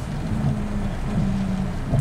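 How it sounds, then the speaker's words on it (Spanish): Steady rain drums on a car moving along a road, a dense, even hiss with a low rumble underneath that holds for the whole stretch, with no voices. "Encima llueve bastante en algunas partes, así que hay que tener cuidado."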